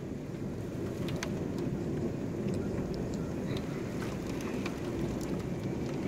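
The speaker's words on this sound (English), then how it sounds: "Listen to these winds." Strong gusting wind roars steadily during a pea-size hail storm, with scattered sharp ticks of hailstones striking nearby surfaces throughout.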